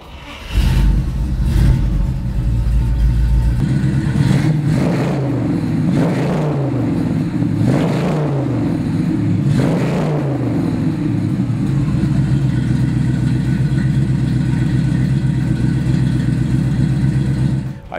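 A 1968 Chevrolet Camaro SS big-block V8 with a four-speed fires up and settles into a loud, rumbling idle, broken by several sharp throttle revs that rise and fall. The car is close by and nobody speaks.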